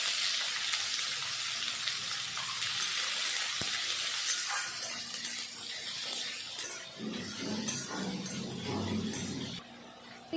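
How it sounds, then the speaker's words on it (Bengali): Onions fry in hot white oil in a kadai over a gas flame, giving a soft, steady sizzle with faint clinks. The hiss thins toward the end as duller bubbling comes in. No talking. "আগে পেঁয়াজ ভেজে নেব"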